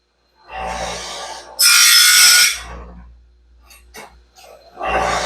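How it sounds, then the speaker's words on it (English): A standard grinding stone grinding a Stellite saw band gives a harsh, hissing rasp in short bursts, with one especially loud central pass, followed by quieter light contacts and a final burst. "Yeah, this is grinding that Stellite nice."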